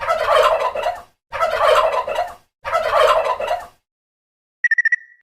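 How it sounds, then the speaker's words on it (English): Turkeys gobble in three loud, rapid bursts separated by short pauses, close and clear, followed by a quick run of chime tones. "Turkeys gobble."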